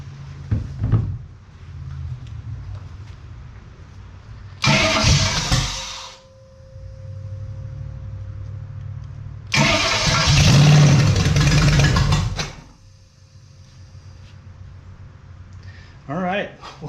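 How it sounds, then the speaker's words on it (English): A 1951 Ford Deluxe engine cranks and fires in two loud bursts of starting and running, with a steady low idle hum in between and someone talking over it. "you can see it's a running motor. It's a viable running motor."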